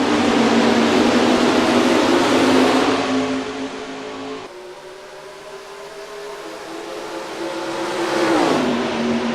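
Race cars in the NR2003 racing game accelerating at the green flag, a loud dense engine roar that dips midway and then swells again as the pack passes.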